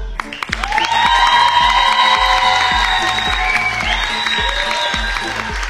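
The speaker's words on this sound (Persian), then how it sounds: "متشکرم، تشویقاتون رو خیلی دوست داشتم" A studio audience claps and cheers continuously over a rhythmic, pulsing music track, with voices mixed in.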